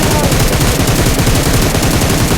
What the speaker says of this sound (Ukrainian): Він просто стріляє там.